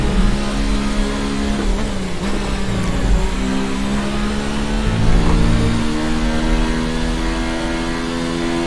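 A Formula 1 race car in the F1 2019 video game, its engine holding a loud, steady high-pitched whine that shifts pitch a few times as gears change, with no voices over it.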